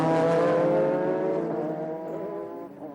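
Loud GT race car engine from a Japanese GT championship round at Aida circuit, Okayama, holding a steady high roar with dense harmonics that fades slightly as the car pulls away.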